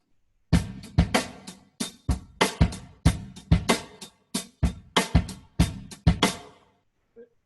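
A drum groove of steady kick and snare hits with cymbal wash, played without the hi-hat foot, alone in a straight even rhythm, close and fairly loud, ending in a short stop.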